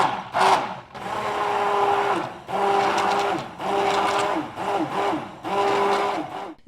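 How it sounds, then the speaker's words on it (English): An electric blender mixes egg yolks, cream and coconut milk for eggnog, its motor whirring steadily in several close, loud pulses separated by short pauses. "then we're gonna blend it all together until it's really well blended"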